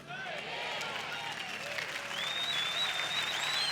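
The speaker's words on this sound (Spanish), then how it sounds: "Si va a aplaudir, hágalo bien." A church congregation applauding together, a dense, steady wash of clapping that holds at an even level throughout, with a few voices mixed into the crowd noise.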